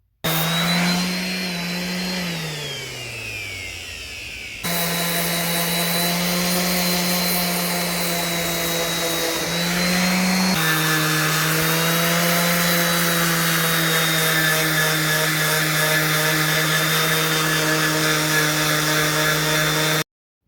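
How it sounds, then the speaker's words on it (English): A power sanding machine with coarse sandpaper working excess wood filler off a repaired gap in wood, a steady loud whine with a strong droning hum that shifts pitch slightly as pressure changes, running nonstop without talk. "I then use my sanding machine and attach a tougher sandpaper to take off any extra excess filler"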